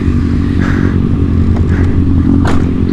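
Motorcycles ridden downtown in daytime, with riders pulling wheelies; a steady loud engine drone runs throughout with occasional revs and light scraping clatter, nearby and continuous.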